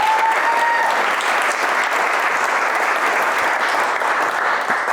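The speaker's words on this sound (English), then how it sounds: "I would also like for everyone to give them a round of applause, a much deserved round of applause." Steady, dense applause from a large audience at an evening talk, loud and sustained with no breaks, a faint whistle near the start.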